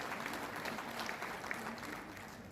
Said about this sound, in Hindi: मैं सदन से आग्रह करूंगा कि जोरदार तालियों के साथ आपका